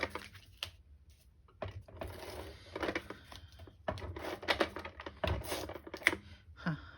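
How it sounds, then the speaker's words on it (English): A tape runner laying adhesive onto a handmade summer greeting card, heard as soft, quick clicking and ticking in short irregular bursts, close and quiet. "Again, I'm just going to use my tape runner for this."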